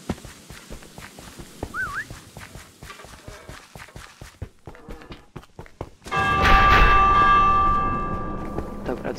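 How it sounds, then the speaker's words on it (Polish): A warning bell in a Minecraft Dungeons village rings out in loud, sustained metallic tones after a stretch of quieter footsteps and game sounds, holding and slowly fading. "Dobra, dzwon zadzwoń."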